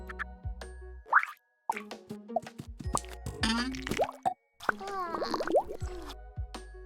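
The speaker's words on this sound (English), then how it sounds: "I've also adjusted some of the springs and the pops to be higher in pitch" High-pitched cartoon sound effects, springy boings and quick pops, burst out in a busy cluster of short bouncy sounds with brief gaps between them, close and fairly quiet.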